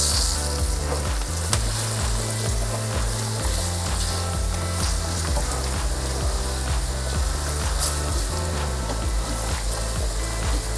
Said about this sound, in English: Now we put 1 spoon of flour and start frying it